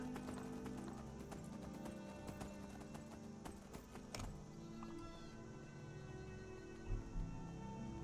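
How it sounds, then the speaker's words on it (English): Horse hooves clopping steadily while riding in Skyrim, a continuous rhythmic patter under game ambience and music, with a brief snort or whinny near the end. "I can just ride the horse to there"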